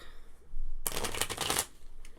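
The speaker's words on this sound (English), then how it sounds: "You still need me to shuffle this deck for you." A deck of cards for the board game Pandemic Legacy Season 2 riffle-shuffled up close, one loud crisp burst of rapid flutters lasting under a second, followed by a faint tap.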